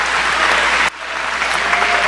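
Church congregation clapping steadily during a sermon, a full, even burst of applause that cuts off sharply partway through and then resumes at a slightly lower level.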